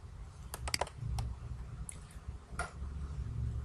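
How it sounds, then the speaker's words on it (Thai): A computer mouse gives a handful of quick, crisp right-clicks, some in tight pairs, close and fairly quiet against faint room noise. "ให้เราคลิกขวาที่แถบว่างๆค่ะ"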